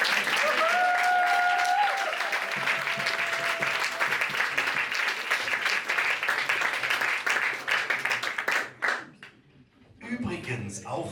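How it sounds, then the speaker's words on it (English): An audience at a science slam in Villach bursts into loud, sustained applause, dense clapping filling the room for several seconds before thinning out and fading, with a few voices mixed in near the end. "Big applause for this."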